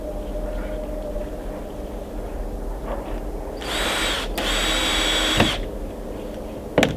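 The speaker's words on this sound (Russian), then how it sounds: "Саморез затянули." Power screwdriver driving a self-tapping screw into a rebar tie for a chicken coop foundation, a steady whirring motor run of about two seconds with a brief pause, ending in a sharp click, amid quiet outdoor background.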